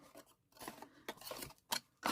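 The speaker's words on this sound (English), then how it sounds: "again using my big scissors, I just cut that away like that" Large scissors snip through paper in several short, crisp cutting strokes, close and moderately loud, with brief pauses between cuts and no talking.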